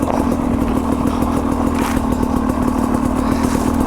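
A Sherco 250 SE two-stroke dirt bike idles steadily close by, a continuous buzzing, rattling drone with a fast even pulse and no talking.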